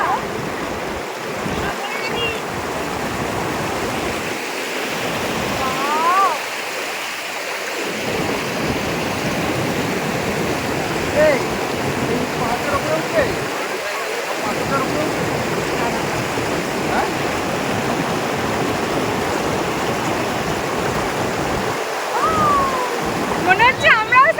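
A mountain stream in Darjeeling rushes and splashes in a constant, loud broadband wash close by. Voices talk intermittently over the flowing water.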